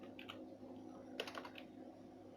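Quiet keystrokes on a computer keyboard as a short email subject line is typed, a few clustered taps early, then a quicker burst in the middle over a low steady room hum.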